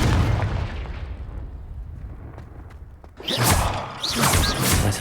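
Confringo fire spell cast in Hogwarts Legacy, a rumbling blast that fades out before crackling, clattering bursts, loud and close.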